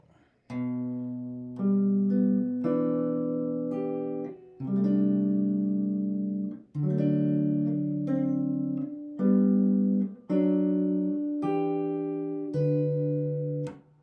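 A solo guitar plays the next line of a Christmas piece, a sequence of ringing plucked chords and intervals in phrases, each note decaying before the next strum, with no talking.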